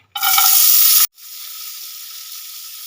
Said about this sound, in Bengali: এবার এর মধ্যে আমি কাজু আর কিশমিশটা একটু হালকা করে ভেজে নেব